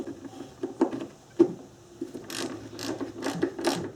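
A hand ratchet clicks rapidly in short bursts while removing 10mm fasteners from a Subaru timing belt cover. The sound is close and moderately loud, with a few pauses between the runs of clicks.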